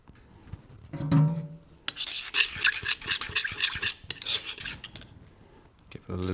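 A utensil scrapes the last of a dressing or food from a bowl while making a Tuscan panzanella with olive oil, anchovies and capers, giving repeated rasping strokes up close with a few clinks.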